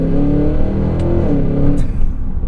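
A 2024 Cadillac Escalade V pulls away under hard acceleration, its engine rumbling loud and steady from inside the cabin with rising harmonic tones throughout.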